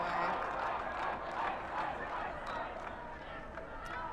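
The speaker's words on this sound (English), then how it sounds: "Hearing some cheering from both sides either way." Players from both teams cheer and yell during a timeout at a quadball national championship, a lively crowd of shouts and whoops, moderately distant, under commentators' talk.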